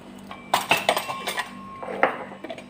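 Soaked dishes and pots being handled in a home kitchen, with clinking metal and ceramic knocks and scrapes in a cluster of close, irregular hits, then a few more clanks near the end.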